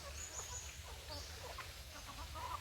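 Rhode Island Red chickens cluck softly and steadily against a constant low background hum, with a few sharper calls cutting through.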